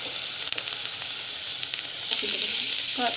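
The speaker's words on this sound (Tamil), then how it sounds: "ஆயில் காஞ்ச பிறகு நம்ம வந்து ஆனியன் பூண்டு ரெண்டுத்தையும் வந்து ஆட் பண்ணிடலாம்." Chopped onion and garlic sizzle in hot oil in a pan. The close, steady crackle grows louder partway through, and faint clinks of stirring can be heard.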